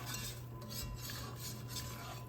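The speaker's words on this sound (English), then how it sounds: "Just gonna stir that around. I turn down the heat. Using a whisk." A whisk stirring a butter and flour roux in a pot over lowered heat, a faint, continuous rhythmic swishing and scraping against a steady low hum, with no talk.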